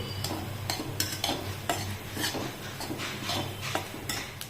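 Dry fruits such as almonds being roasted in a pan with a little oil and ghee, stirred steadily with a spoon that scrapes and taps the pan in repeated strokes over a low hum, with no talking.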